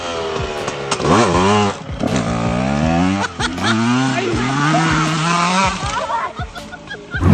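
A motorcycle ridden by a beginner out in the open, its engine revving up and down in uneven surges and bogging between throttle bursts, close and loud, ending with a sharp rise.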